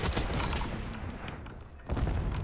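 Loud, dense gunfire and thumping blasts in Call of Duty: Black Ops 6, including a noob tube grenade launcher firing. The shots pile up early, ease off briefly, then surge again near the end.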